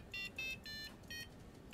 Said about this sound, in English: it's just outputting a square wave using the LINX square wave output, setting that frequency, then putting it out to digital pin 13, goes out to the buzzer